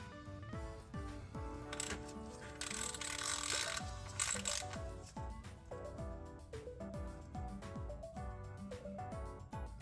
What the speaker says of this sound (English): Go ahead and tighten that fill port bolt for the permanent installation.